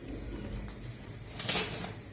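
Ingredients for a cheese börek batter with baking powder and salt being whisked in a bowl, a brief burst of metallic clinking and scraping of utensil against the dish rising near the end over a quiet background.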